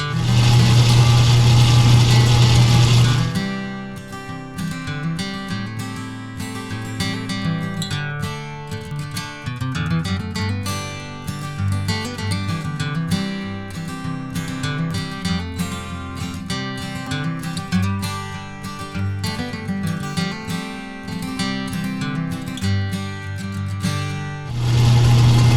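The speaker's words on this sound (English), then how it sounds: "put on the boring bar and bore this to the correct ring size" Lathe fitted with a boring bar cutting the bore of a grade 5 titanium ring, a steady mechanical hum with faint scraping and chatter running for about twenty seconds, with a louder motor tone at the start and end.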